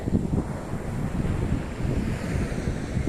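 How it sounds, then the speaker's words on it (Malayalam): Rough, continuous roar of rough sea surf at Shanghumukham beach, with wind buffeting the microphone, waves churning loudly nearby. "ചില ഭാഗങ്ങളിലൊക്കെ തിര വല്ലാതെ അടിച്ച് മേപ്പോട്ട് വരുന്നുണ്ട്"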